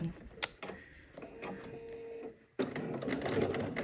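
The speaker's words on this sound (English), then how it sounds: "I'm using a straight stitch because we're just kind of basting this in place" A sewing machine runs a straight stitch basting a swimsuit, heard faint and close with clicks and handling sounds, then a louder stretch of stitching near the end.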